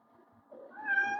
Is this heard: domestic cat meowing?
yes